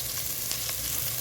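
Onions fry in a pan with a steady, close sizzle and faint crackles, with no voices.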